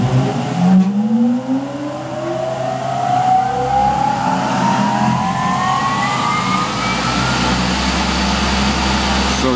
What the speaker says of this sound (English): when I press spindle, I need to wait to see how much I need to wait until I reach 4000 RPM